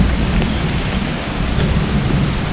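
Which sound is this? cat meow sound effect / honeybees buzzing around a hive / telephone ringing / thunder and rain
thunder and rain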